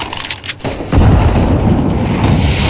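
A grenade detonates in Counter-Strike 2 with a sharp, close boom, then a heavy rumbling blast rolls on and sustains loudly to the end.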